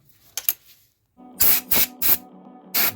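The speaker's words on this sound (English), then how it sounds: "you can clean pipes with brake cleaner" Brake cleaner sprays onto the pipes of a 2.0 TDI EA288 engine in short hissing bursts, four loud close blasts following a few faint clicks and rattles of the can.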